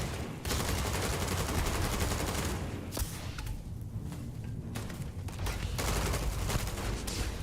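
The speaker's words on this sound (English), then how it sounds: "Somebody's shooting at me." Sustained bursts of rapid gunfire from the video game Starfield, loud and close, with a brief lull in the middle before the volleys resume.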